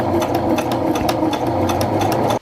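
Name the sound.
sewing machine sewing darts in a dress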